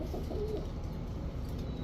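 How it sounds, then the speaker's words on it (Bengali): Domestic pigeons at a bird seller's stall give a brief, soft cooing call against a low ambient hum, short and fairly faint. "এই হচ্ছে কবুতর।"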